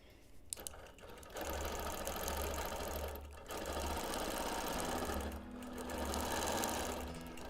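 Sewing machine stitching a quilt, free-motion quilting a diamond with a star inside, in several rapid mechanical bursts separated by short pauses, close and steady.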